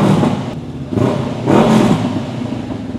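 Honda NX500 motorcycle with a 180-degree crank and aftermarket exhaust revs in short, loud bursts, its mid-pitched engine rising and falling about three times with no talking.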